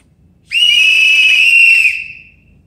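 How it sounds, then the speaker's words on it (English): A protester blows a whistle in one loud, shrill, steady tone lasting over a second before it tails off, sounded in protest against a state environmental agency's oversight of the Mountain Valley Pipeline. "We call foul and blow our whistles."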